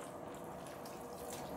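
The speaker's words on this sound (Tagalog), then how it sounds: "magdadagdag pa tayo ng konting sabaw" Broth pours into a pot of tom yum soup, a steady close splashing trickle of liquid that runs without a break and without voices.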